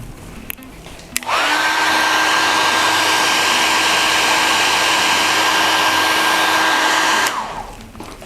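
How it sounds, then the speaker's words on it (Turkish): A hair dryer blows steadily on epoxy resin to warm it before pouring, switching on after a second, holding a loud, even whoosh with a faint whine for about six seconds, then cutting off. "Ben dökmeden önce biraz fön tutacağım."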